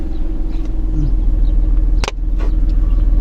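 A car engine idles and pulls away with the clutch half engaged during a driving lesson, a steady low rumble close up with one brief sharp knock partway through.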